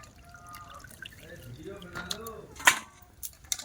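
Water splashing and trickling as cut cauliflower pieces are washed, soft and close with a sharper splash near the end, under a voice talking.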